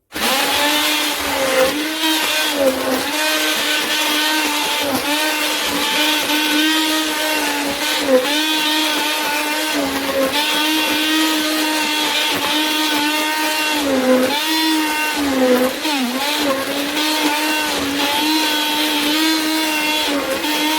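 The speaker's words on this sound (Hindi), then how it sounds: "हम ब्लेंड कर लेते हैं।" A blender purées vegetables for Turkish vegetable soup, a loud, steady whirring drone that runs without pause, its pitch wavering slightly as the contents churn.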